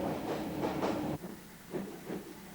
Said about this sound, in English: The train, now diesel-hauled, heads for Rawalpindi.